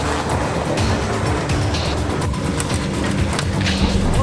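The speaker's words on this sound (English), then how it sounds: "It's our 2004 Volkswagen Touareg going up the difficult and exciting Rocky Top off-road trail" A 2004 Volkswagen Touareg climbs a steep, rocky off-road trail, its engine a loud, constant close rumble mixed with gritty crunching from the tires over stone.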